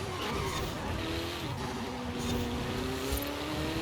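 A Ferrari race car in Forza Horizon 5 accelerates hard, its engine note climbing steadily in a continuous loud roar with faint tire noise throughout.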